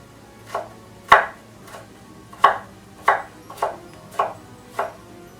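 Potatoes chopped with a knife on a board for creamy spinach soup: eight crisp, fairly loud chops in an uneven rhythm, close by, with no talking.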